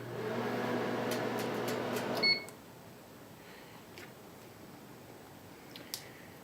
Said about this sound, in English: it's my first time microwaving